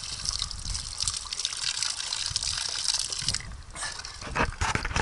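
A trail runner takes a drink of water mid-run, with close sloshing, gulping liquid sounds over a busy, breathy outdoor background.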